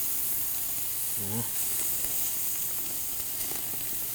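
Korean-style ribs on a charcoal grill give off a steady, soft hiss as the fat melts, a continuous sizzle with a voice briefly speaking over it.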